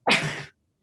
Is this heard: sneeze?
yes